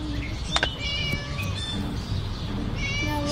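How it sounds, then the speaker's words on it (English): A cat in the video game Scary Teacher 3D meows several times, clear and close, with a few short calls followed by a longer drawn-out meow over quiet game ambience. "Shut up you silly cat"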